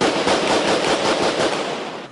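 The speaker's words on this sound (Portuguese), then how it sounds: "No meio da confusão, um policial deu tiros para o alto." A rapid burst of loud gunfire from a police officer firing into the air during a riot crackles continuously, dense and sharp, with a noisy crowd-like wash underneath.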